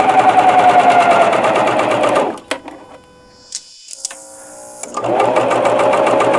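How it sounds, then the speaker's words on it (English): A sewing machine stitching a T-shirt seam, running loud and steady at close range, pausing for a few seconds of small clicks and handling, then starting its fast, even whirr again. "I'm going to overstitch about 1/2 to 3/4 of an inch, making sure my needles stitch in the exact same line as they did before"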